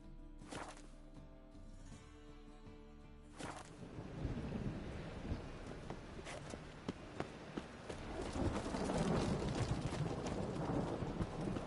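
Steady rain hisses in The Witcher 3 game world, with a thunder crack early on and heavier downpour building toward the end, plus scattered footstep-like knocks.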